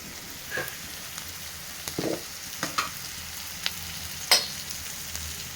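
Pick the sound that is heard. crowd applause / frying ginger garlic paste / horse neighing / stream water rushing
frying ginger garlic paste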